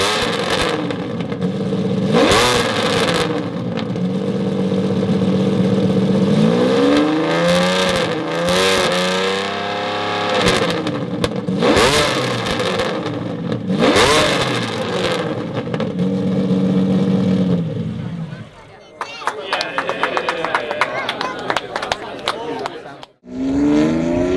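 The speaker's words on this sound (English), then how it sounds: "It's so racing and so aggressive V12 noise and sound." A Lamborghini Diablo restomod's V12 with open exhaust revs loudly in repeated rising and falling sweeps, then drops to a lower clattering idle near the end.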